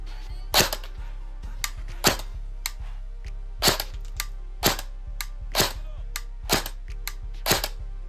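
Airsoft Colt CQBR M4A1 fired through a chronograph: a series of about a dozen sharp snapping shots at irregular intervals, some louder than others, over a steady low electrical hum.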